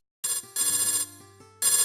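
A phone ringtone plays in loud repeated bursts with a steady electronic melody, pausing briefly between rings, close and clear with no talking over it.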